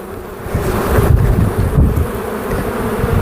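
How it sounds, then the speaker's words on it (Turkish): Honeybees buzz loudly and close by in a dense, droning swarm as worker bees fly off, with gusts of wind rumbling over the microphone. "Tarlacı, işçi arılar uçup gidiyor arkadaşlar."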